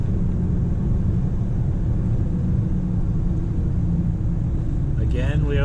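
A 7.3 Powerstroke diesel truck accelerates at full throttle with a loud, heavy, continuous rumble and engine roar, while a voice talks over the noise.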